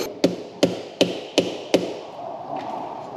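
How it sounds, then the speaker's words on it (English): A dead blow hammer lightly tapping the transmission pan of a Lexus 8-speed automatic to break it loose, five sharp evenly spaced knocks close up, each with a short ringing decay, then quiet. "go get our dead blow hammer and just lightly tap the pan until it breaks loose"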